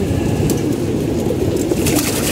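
A friendly pigeon cooing close by, a low, steady murmur that continues without a break and sounds loud and full.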